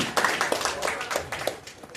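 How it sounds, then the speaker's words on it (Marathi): An audience at a college music event claps in welcome for music students, a brief burst of scattered, close hand claps with uneven rhythm. "आपण सर्व स्पर्धकांनी या संगीत विभागाच्या विद्यार्थ्यांच्या गीत सादरीकरणासाठी एकदा टाळ्या वाजवून त्यांचं स्वागत करायला पाहिजे"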